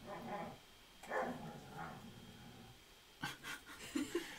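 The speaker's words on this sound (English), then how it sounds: "They're puppies in the background. That's not a dog fight." Puppies bark and yip playfully in the background while cards are opened, faint scattered yaps and whimpers mixed with quieter room noise.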